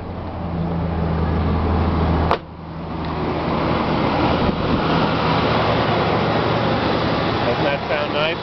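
Big-block 454 Chevrolet Suburban, two-wheel drive, idling steadily with a smooth, even engine drone from start to end, one sharp click partway through.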